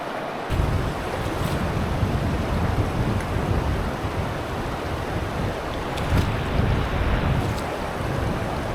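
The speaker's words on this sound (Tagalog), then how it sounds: "Medyo malakas yung agos ng tubig," Strong current of the Nambalan River rushing over large rocks, a loud, dense, steady roar of water that continues unbroken throughout, with no voices.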